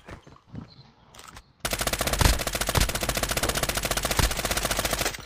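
In a video game, rapid automatic gunfire bursts loudly and continuously after a brief quieter stretch, with a few heavier blasts punctuating the steady rattling stream.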